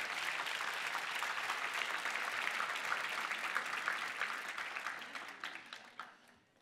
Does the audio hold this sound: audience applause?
yes